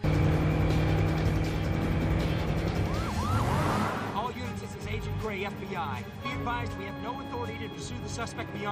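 Several police cars chasing a fleeing car in a film scene, with sirens wailing and engines roaring together under music and dialogue, the siren sweeps most prominent midway before the chase noise settles back into the mix.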